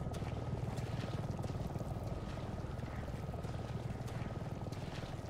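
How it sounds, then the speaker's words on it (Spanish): Helicopter in the Resident Evil 7 video game, a steady low rotor drone with a rhythmic chop that holds evenly throughout, fairly distant and without speech. "¿Helicóptero?"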